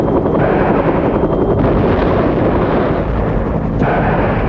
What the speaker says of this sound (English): The aerial rocket artillery helicopters were also ready to attack.